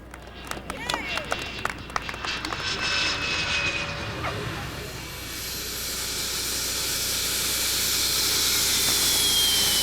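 A jet aircraft lands at St. Paul airport, its engine roar and hiss swelling steadily and drawing closer, with radio chatter and clicks early on.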